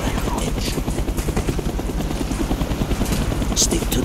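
Helicopter rotor chop from the Call of Duty: Black Ops final mission, a steady loud pulsing beat with engine rumble throughout, mixed with in-game sound and voices.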